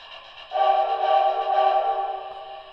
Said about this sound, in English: Reverse whistle.